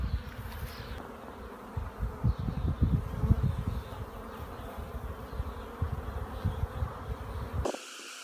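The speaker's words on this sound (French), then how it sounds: "on peut voir un corps de ruche très très fourni" Honeybees buzz steadily in a crowded beehive body, a dense low hum with busy fluttering swells throughout, close and continuous, cutting off abruptly near the end.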